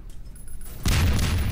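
Gunfire bursts in the combat video game Kuma War, a sudden loud volley erupting after a quieter start and sustaining to the end, with booming low-end weight.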